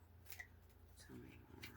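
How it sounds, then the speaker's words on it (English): A tarot card is pulled from the deck with quick papery slides and flicks, close and soft, while a person talks quietly over it. "Let me pull another card"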